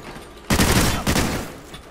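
Gunfire in the video game Call of Duty Ghosts, a loud burst of rapid shots starting abruptly, then a second shorter burst, fading into quiet background.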